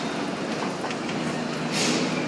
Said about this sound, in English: I'm getting out of the subway.